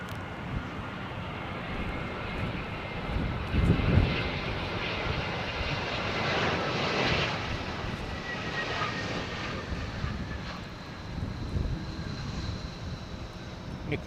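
A fixed-wing aircraft comes in to land in blustery wind, its engine a steady, moderately loud drone that swells and fades slightly, mixed with wind noise, with no talking.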